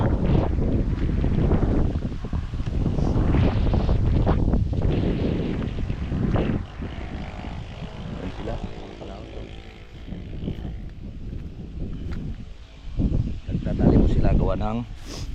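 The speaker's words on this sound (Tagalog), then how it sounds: "malakas ang hangin" Strong outdoor wind buffets the microphone in heavy, uneven roaring gusts that rise and fall across the whole stretch, with people talking at times.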